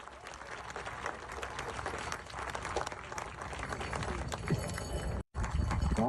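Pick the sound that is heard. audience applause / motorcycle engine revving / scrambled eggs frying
audience applause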